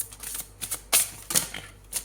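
A tarot deck shuffled by hand at close range, a run of quick papery riffles and sharp snapping bursts in irregular clusters, with no talking.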